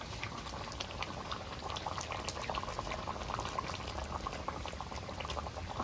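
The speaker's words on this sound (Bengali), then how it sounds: "এবার ভাজা বাটা মশলাটা দিয়ে দেবো" A tilapia curry simmers with steady close bubbling and gurgling while fried spice paste is added, the liquid sounds continuous and moderately loud.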